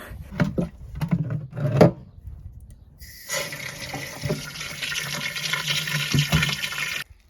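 Water filling a container for watering potted cactus plants: a few knocks and handling clatter, then a steady close rush of running tap water for about four seconds before it stops.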